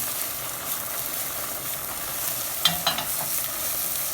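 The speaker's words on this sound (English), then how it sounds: "You toss the food in a pan." Mushroom risotto tossed in a frying pan: a constant hissing sizzle with a brief cluster of soft scraping, sloshing movements near the end, close and moderately loud, no speech.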